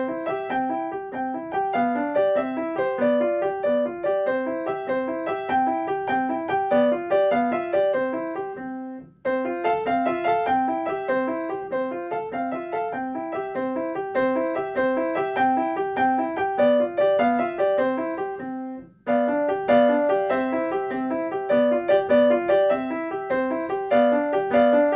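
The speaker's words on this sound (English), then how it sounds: "There's a piece called The Swing by Czerny," Solo piano plays "The Swing" by Czerny, an easy classical beginner piece, with a steady flowing rhythm of repeated notes, near and clear, pausing briefly twice between phrases.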